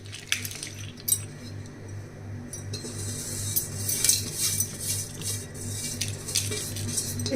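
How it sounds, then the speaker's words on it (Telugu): Cooled ingredients for a sesame and garlic chutney being dropped into a mixer jar, with clinks and clatters against a hard jar over a steady low hum, louder knocks toward the end. "ఒక మిక్సీ జార్ తీసుకుని మిక్సీ జార్లో వేసేసుకోవాలి"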